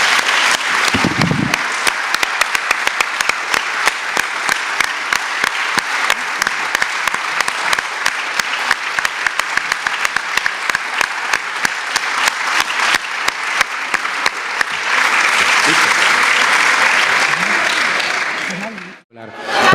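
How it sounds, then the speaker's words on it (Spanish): Sustained loud applause from an audience at a public talk on the women's struggle, steady dense clapping lasting nearly twenty seconds with a brief swell near the end before it cuts off. "yo creo que podemos cerrar esto con un aplauso para los de Ike"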